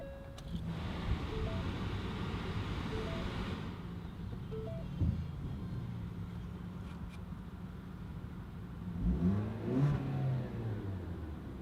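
A 2017 Ford Escape S starts up and its engine revs, a steady idle hum punctuated by a rising rev near the end, heard from close by with no talking.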